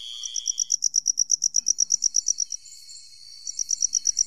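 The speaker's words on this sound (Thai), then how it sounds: "นี่เสียงจิ้งหรีด" Crickets chirp in a forest at night in a cartoon, a fast even train of bright pulses close and clear, pausing for about a second before resuming, with no other sound beneath.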